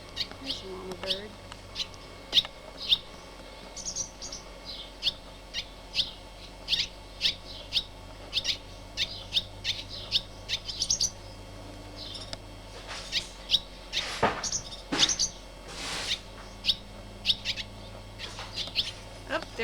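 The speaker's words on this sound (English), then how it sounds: "There's a mama bird." Small birds chirp and tweet repeatedly on a porch, a mother bird with her babies, the sharp calls coming in quick irregular bursts at close to moderate distance over a low background hum.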